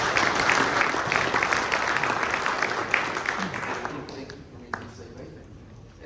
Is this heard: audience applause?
yes